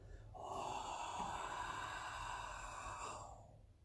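During a slow movement exercise, one long, soft, airy breath rises, holds steadily and fades, heard close and quiet with no talking.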